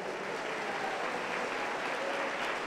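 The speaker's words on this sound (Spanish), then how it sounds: "Dele un aplauso contento al Señor Jesús." Members of a church congregation applaud during a Wednesday service in Huancayo, a dense, even wash of clapping that carries steadily at a moderate distance.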